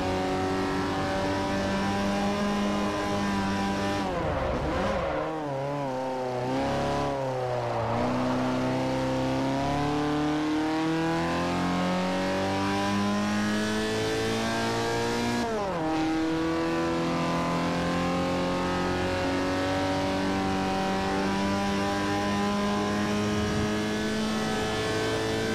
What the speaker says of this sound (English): This car just doesn't accelerate after like 90 miles an hour.